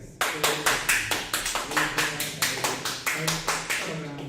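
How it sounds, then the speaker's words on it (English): Applause in a board of education meeting, with a rhythmic run of loud, evenly spaced claps that continues steadily throughout, close and prominent with some voices in the background. "I'm allowed to clap as well"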